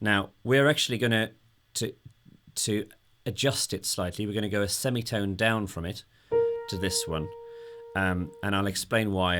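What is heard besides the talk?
None of the usual background noises is heard.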